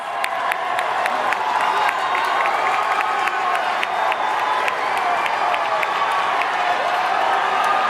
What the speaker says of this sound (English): Let's give those contestants one more loud round of applause.